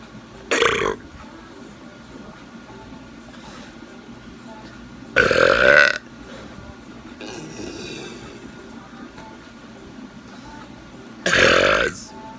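A person burps by swallowing air, producing three loud, separate belches spaced several seconds apart, with quiet gaps and faint background noise between them.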